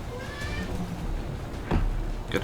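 In the XCOM 2 War of the Chosen video game, a cat-like creature gives faint, short meows and yowls over a low game soundscape.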